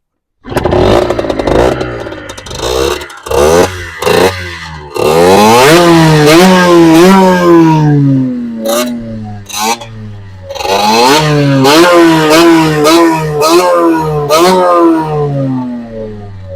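A motorcycle engine cranks, catches and revs hard several times, loud and close, with sharp throttle blips rising and falling and brief gaps between bursts.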